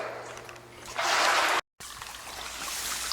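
Water keeps running into a basement flooded with eight inches of water around a Zoeller pump, a steady rushing trickle that grows louder midway, cuts out briefly, then resumes.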